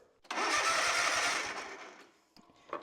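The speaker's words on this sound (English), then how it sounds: "we should have an engine that cranks over" A car engine cranks over with rapid rhythmic chugging for about two seconds, then stops, leaving a few faint clicks and clunks.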